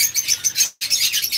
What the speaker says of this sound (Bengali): যদি কেউ এরকম লাভবার্ড নিতে চান, একদম রানিং লাভবার্ড